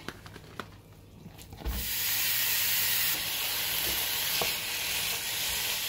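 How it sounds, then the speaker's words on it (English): Ground meat browns in a large skillet, a few faint clicks and stirs giving way to a loud, sustained sizzle and hiss close by that continues to the end. "we're going to brown the meat in it about 7 minutes or until it's no longer pink"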